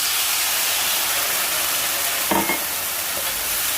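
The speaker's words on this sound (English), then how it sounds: "Now I'm going to give my sauce a mix, and it goes right in the pan." Sauce hits a hot pan of chicken stir-fry with a loud, continuous close sizzle and a brief splashy burst as it pours in, the hiss carrying on steadily afterwards.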